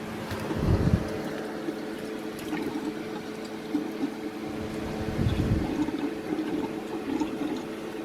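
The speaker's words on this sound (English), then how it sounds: "Now we're going to power the system up." A KKM Tech-Chiller system aboard a 61-foot Tolly Craft Pilothouse powers up and starts pumping. It makes a steady watery rush and gurgle with a low rumble and a couple of heavier surges, heard alone at a moderate level.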